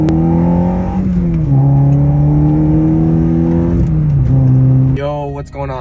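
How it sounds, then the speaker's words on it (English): A ninth-generation Honda Civic Si with a stage 2 clutch revs under throttle, its engine note loud and close, holding and stepping in pitch several times before easing off. "car does like to get snappy on me so when I get on the throttle,"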